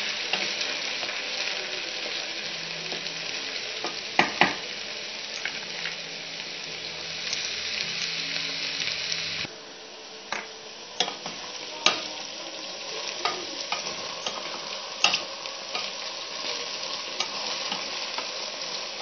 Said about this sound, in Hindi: इधर हमारी भिंडियाँ फ्राई हो रही हैं